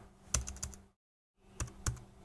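Computer keyboard keys clicking in two short bursts separated by a brief silent gap, close and fairly quiet, with no voice.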